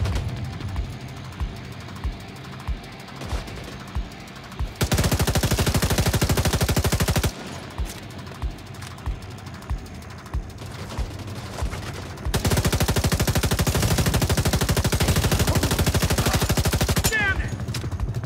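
Turret machine gun in The Division 2 firing in two long, loud sustained bursts, with quieter scattered gunfire and game noise between them and a faint voice now and then.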